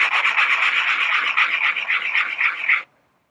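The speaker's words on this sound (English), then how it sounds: "Usually I take a little bit of sandpaper" Sandpaper rubbed back and forth over a freshly cut wood edge, a close, loud, steady raspy scratching that stops abruptly after about three seconds.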